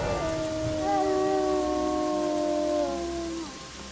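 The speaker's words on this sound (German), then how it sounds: "Ich habe einen Wolf gehört." A wolf howls in Gothic 3, a long wavering call with a second voice overlapping and sliding in pitch. It fades out after about three and a half seconds over a soft patter of rain.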